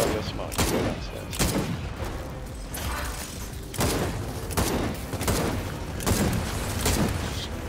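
Gears of War 4 co-op campaign combat on Insane difficulty brings bursts of heavy gunfire and booming shots that recur every second or two, loud and dense, with mechanical clanks between volleys.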